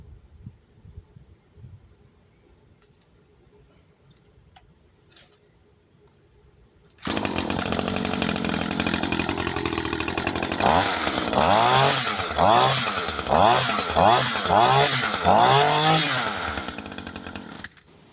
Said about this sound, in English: At least I can use the trimmer, you know.